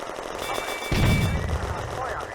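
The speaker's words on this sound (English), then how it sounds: "Unteroffizier Gunther's Panzer 38 destroys the third BT-7 by APC shell through the turret lower left" A Panzer 38 tank cannon fires an armour-piercing shell in the WWII tank game Firefight, a single heavy boom with a rumbling low tail, loud and close, over a steady background din.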